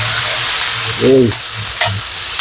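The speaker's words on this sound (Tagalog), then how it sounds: "Ginigisa ko muna itong isda." Fish sautéed with garlic in a pan gives a loud, close, continuous sizzle, broken by a brief squeak and a light scrape of stirring.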